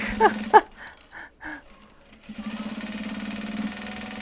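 A sewing machine stitches upcycled obi and kimono fabric in a short run of quick, even mechanical thumps that follows a few scattered knocks and handling sounds.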